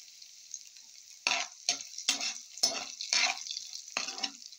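Browned garlic sizzling in a pan as chili powder and salt go in, a faint hiss broken by several bursts of louder sizzling and stirring.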